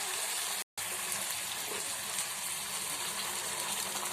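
Boiled water pouring into a pan of spicy jackfruit curry, a steady gushing splash that runs continuously, broken by one brief cut near the start.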